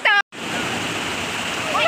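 Stream and waterfall water rushing at Madai Stream in Hong Kong, a steady broadband roar that fills the clip after a brief break, with a voice speaking at the start and near the end.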